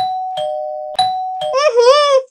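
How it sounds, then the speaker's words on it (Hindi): Cartoon doorbell chiming repeatedly, several clear tonal rings in a row, followed by a higher, childlike voice. "बार बार डोरबेल बजाया जा रहा है।"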